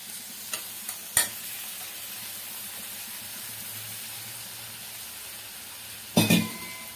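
Ground tomato paste goes into a hot pan for a Sunday curry, with a steady soft sizzle and a few sharp clatters of the spoon stirring it, loudest in a burst near the end.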